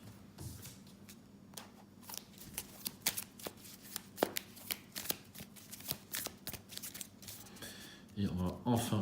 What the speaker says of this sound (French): je vais mélanger cette carte